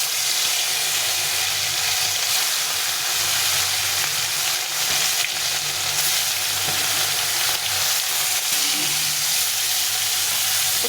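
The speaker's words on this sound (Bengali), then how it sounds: "এখন আমি মাছগুলোকে ভেজে নেব।" Fish fry in hot oil in a kadai, giving a loud, steady crackling sizzle that runs unbroken and close up throughout, with no talking.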